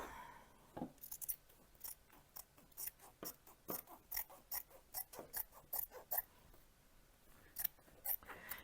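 Scissors cut through fabric in a steady series of crisp snips, close and fairly quiet, repeating at an even rhythm with no talking.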